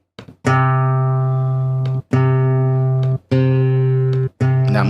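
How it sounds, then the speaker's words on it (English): Kontakt Session Guitarist melodic preset playing four sustained, ringing guitar notes or chords, each sounding about a second with short gaps between, clean and close with no talking. "So these are all melodic things, melodic presets that you can check within the session guitars."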